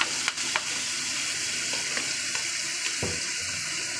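Soy sauce goes into a hot pan of tikka macaroni and sets off a steady, moderately loud sizzle with a few brief clinks and splashes, and nobody speaks.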